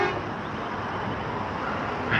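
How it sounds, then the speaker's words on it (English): A truck horn honks on a busy street, a short tonal blast heard over steady nearby traffic rumble with no talking. "the freaking truck just honks the horn"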